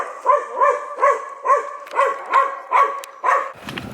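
A big dog on a walk barks in a steady series of about eight close, loud barks spaced evenly apart, with no talking.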